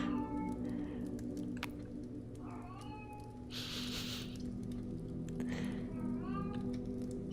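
A pet cat howls in drawn-out, wavering cries indoors, several calls rising and falling over a steady low hum and a burst of rustling noise.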